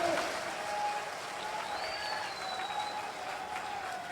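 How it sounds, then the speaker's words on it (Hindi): A large crowd at an outdoor political rally in Churu, Rajasthan claps steadily and loudly for several seconds, with faint voices and a whistle-like tone audible beneath the applause. "ताली बजाओ जोर से।"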